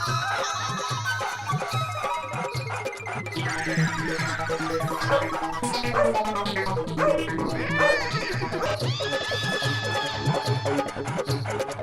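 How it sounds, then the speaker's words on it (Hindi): A dog barks and yips repeatedly in a Gokuldham housing-society scene from the Taarak Mehta Ka Ooltah Chashmah comedy series, the barking mixed with steady background music and some voices throughout. "अरे भाई ये कुत्ता कहाँ से आया है?"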